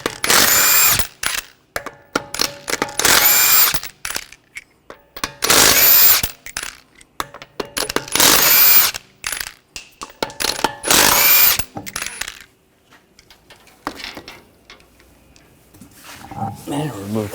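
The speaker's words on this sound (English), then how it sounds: "Now we're going to remove the wheel, use a 21mm socket." Power tool fitted with a 21mm socket spinning off wheel nuts on a 2014-2020 Nissan Rogue, loud whirring bursts in repeated runs of a second or two, with quieter ratcheting and handling noises between.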